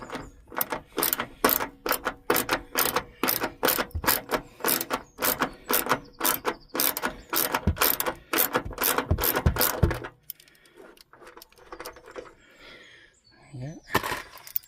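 A socket wrench ratchets in quick, loud, close bursts while working on the roof of a 1999 Saab 9-3, then stops, leaving quiet handling noises and faint movement.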